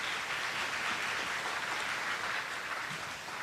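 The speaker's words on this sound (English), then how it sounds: "Dr. Vijay Stripati, please give him another round of applause." Applause for a department head at a university math fair livestream, a steady dense wash of clapping from the audience, fairly faint and distant, continuous for several seconds with no talking.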